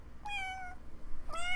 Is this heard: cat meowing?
yes